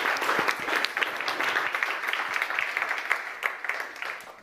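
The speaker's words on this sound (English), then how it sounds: "let's applaud Maggie" Sustained audience applause at a startup pitching event, many hands clapping steadily and densely for about four seconds before tapering slightly at the end.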